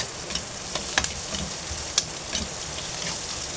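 Onions sautéing in a pan for dinuguan give a soft, steady sizzle with a few faint clicks and pops, quiet and close, with no talking.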